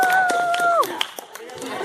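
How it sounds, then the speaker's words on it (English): An audience at a stand-up improv comedy show gives a round of applause, scattered claps under a performer's voice and cheering. "give a round of applause for these people."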